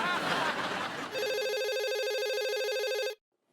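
A landline telephone rings with a steady, buzzing electronic trill for about two seconds after a brief noisy start, then cuts off abruptly into silence.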